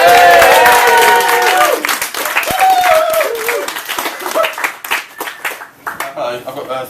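A comedy and poetry show audience at the Edinburgh Fringe breaks into loud applause with whoops and cheers, the clapping thinning out toward the end as a voice starts to speak.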